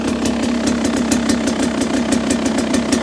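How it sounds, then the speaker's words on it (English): A 2022 Beta 300 Race Edition two-stroke motorcycle engine idles steadily up close, a rapid even rattle with rhythmic high ticking pulses over a constant low hum, no one talking. "I'm actually super happy with the way it's idling."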